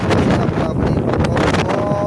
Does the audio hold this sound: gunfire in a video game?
no